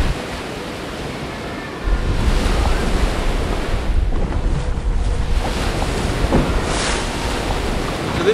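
Wind-driven waves slap and wash against a kayak on Choctawhatchee Bay, close and loud, with constant rushing water and gusty wind buffeting the microphone throughout; no talking.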